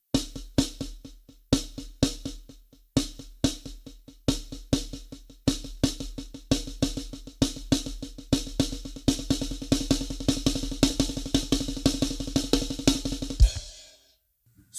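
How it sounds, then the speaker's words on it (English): Double paradiddle rudiment on a drum kit, starting as spaced, accented strokes with kick hits and building into a continuous, even run of close snare notes, alone, ending abruptly. "Now the double paradiddle sounds something like this."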